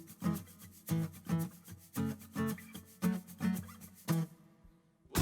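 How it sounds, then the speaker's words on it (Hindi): Spiced mixture with a tablespoon of garam masala being roasted and stirred in a pan, a spoon scraping in a steady rhythm of repeated rubbing strokes, close and fairly soft, with no talking. "इसकी हमने भुनाई करनी है।"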